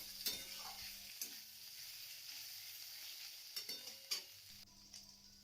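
Fenugreek greens and fried eggplant are stirred in a pan, a soft sizzle broken by a few distinct spatula scrapes and knocks, fairly quiet and close.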